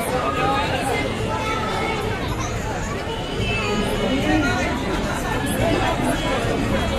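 Dense crowd babble outside Park Street metro station as people pour out of the metro, a steady wash of many overlapping voices, close and loud throughout with no pauses.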